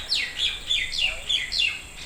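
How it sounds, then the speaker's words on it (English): Repeated bright descending bird chirps, about six quick calls in a steady rhythm, fairly close and clear over a quiet background, in lush green grounds at Keshav Bhavan, Deeg, Bharatpur, India. "There's a lot of birds here."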